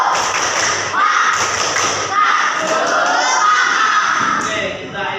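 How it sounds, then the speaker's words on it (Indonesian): A school class in Indonesia does a rhythmic spirit clap led by the teacher, loud thumping claps in patterned bursts mixed with children's shouts and voices. "tepuk semangat."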